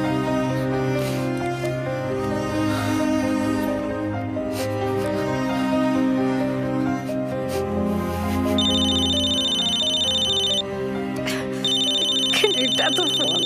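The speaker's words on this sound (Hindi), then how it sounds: "कनेडा तो फोन" A telephone ringtone trills in repeated electronic bursts over a film music score, with a voice heard in the background; the call is coming from Canada.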